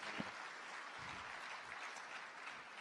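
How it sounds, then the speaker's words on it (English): Audience applause at a youth awards closing ceremony for Honorable Sandrine, a steady wash of clapping filling the room without a break. "A warm round of applause for Honorable Sandrine"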